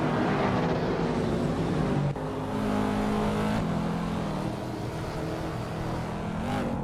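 Race cars tear away from the starting line, their engines a steady, close, loud roar that holds with slight shifts in pitch and no pauses.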